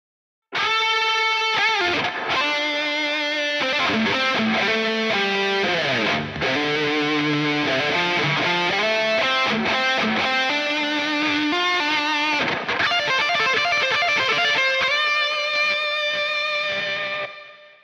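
A distorted electric guitar plays a melodic lead solo through Overloud TH-U amp software, notes trailing into delay echoes and reverb tails, loud and continuous, fading at the end.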